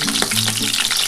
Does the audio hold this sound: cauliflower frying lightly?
yes